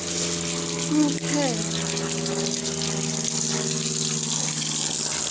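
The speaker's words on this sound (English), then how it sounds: "so let's fill up the bottles, shall we?" A tap runs steadily, filling water bottles inside a camper van, with a pump-like hum and continuous water hiss; someone speaks briefly over it near the start.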